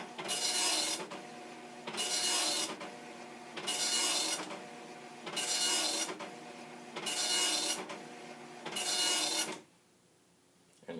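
A Commodore NX-1000C Multi-Font printer prints a test page in six rasping bursts of about a second each, separated by short pauses, loud and close, before falling quiet.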